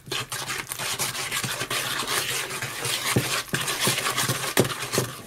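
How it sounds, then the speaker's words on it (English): Ginger nut biscuit mixture is whisked in a bowl for a few seconds, with busy scraping and rubbing strokes and a few sharper taps against the side, close and fairly loud. "Now I'm just gonna whisk."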